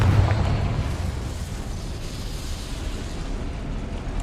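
Explosion from a Confringo fire spell in the Hogwarts Legacy video game: a heavy blast at the start that fades into a long, loud, rumbling roar. No one speaks over it.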